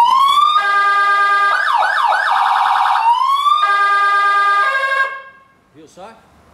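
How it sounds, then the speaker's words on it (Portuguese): A loud professional electronic vehicle siren wails and yelps through rising and falling tones, close and continuous, then cuts off abruptly, leaving a few faint chirps. "E a sirene, que é absurdamente forte."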